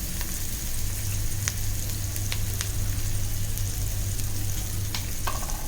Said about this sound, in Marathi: छान परतून घेऊया लाल होईपर्यंत